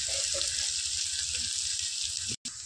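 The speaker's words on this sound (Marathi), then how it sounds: "तेल गरम झाले, आता अद्रक लसूण पेस्ट टाकून घेऊ." Ginger, garlic and coriander paste sizzles in hot oil for a mutton rassa, a steady close hiss of frying that runs throughout with a brief dropout near the end.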